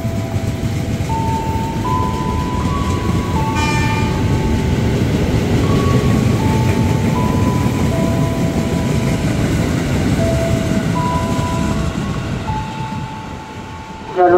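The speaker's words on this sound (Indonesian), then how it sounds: "K4075, rangkaiannya 10 kereta." A ten-car KRL commuter train, K4075, rumbles through Kranji station with a steady loud rolling roar, overlaid by a sequence of tonal chime-like notes, until it fades slightly near the end.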